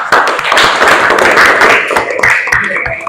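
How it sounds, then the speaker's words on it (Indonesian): A classroom of students breaks into brisk, dense applause, many hands clapping close together in a busy burst that lasts about three seconds. "Tepuk tangan."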